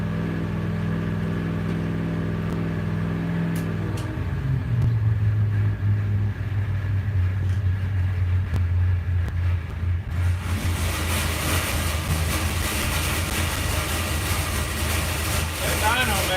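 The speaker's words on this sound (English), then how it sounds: "That dyno makes a shit ton of noise." An engine runs hard on a dynamometer, a loud sustained drone with low harmonic bands that shift and rise, joined by broadband roaring noise in the second half; voices talk over it.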